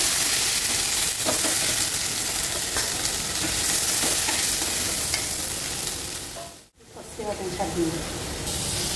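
Vegetables frying in hot oil give a steady, close sizzle with scraping stir strokes, a brief dropout near the end, then a voice talking faintly over the hiss.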